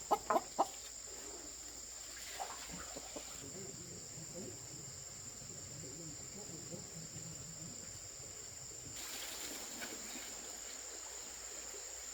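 Chickens on a rural Vietnamese homestead cluck faintly in the background alongside steady insect chirping, with a few brief sharp sounds at the start and quiet voices nearby.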